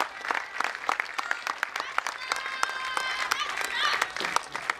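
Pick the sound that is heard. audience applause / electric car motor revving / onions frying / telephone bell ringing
audience applause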